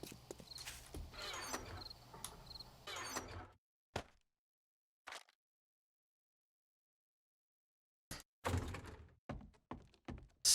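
In-game building items dropping into a storage box in 7 Days To Die with the Darkness Falls mod: a busy clatter, two isolated soft thunks after a pause, then another burst of knocking thuds.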